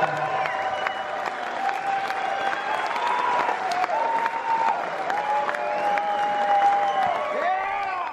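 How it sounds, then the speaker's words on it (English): An audience applauds a hard-working stage crew, steady mid-level clapping mixed with crowd noise and sustained tonal sounds that run through the whole stretch without a break. "Please give them an applause."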